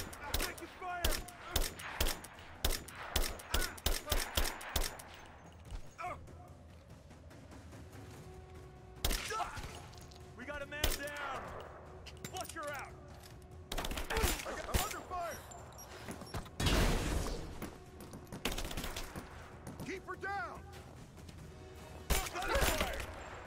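Assault rifle fire from Rise of the Tomb Raider opens as a rapid string of sharp, close shots. Scattered bursts and impacts follow, with someone talking over parts of it.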